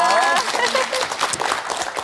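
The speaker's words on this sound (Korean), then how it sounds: "우리 박수 좀 보내드리죠" Studio audience applauding on a Korean TV show about a multicultural family, a steady crowd clapping that runs for the full two seconds under a host's voice.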